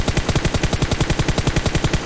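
Rapid automatic gunfire from the PUBG Mobile battle royale game, a steady stream of about twenty evenly spaced loud shots rattling off over two seconds with no talk.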